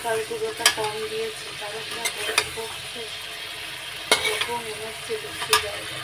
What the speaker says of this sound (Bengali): রান্না করছি মটর মানে ঘুগনি